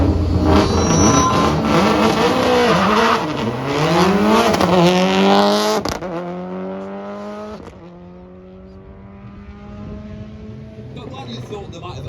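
A 1999 rally car in Juha Kankkunen's colours runs down a hill at the Salon Prive Classic & Supercar show, its engine loud and close with rising revs and sharp gear changes, then fading as it pulls away, with crowd voices around.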